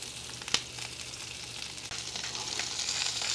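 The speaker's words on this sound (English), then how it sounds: "Step 2 is to cook the jalapenos. He added a little olive oil down." Jalapenos fry in olive oil with a close, continuous crackling sizzle and a few sharper pops, with no talking.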